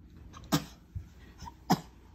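Two sharp, close coughs about a second apart ring out in a home kitchen area where cooking fumes hang in the air, with faint smaller throat sounds between them.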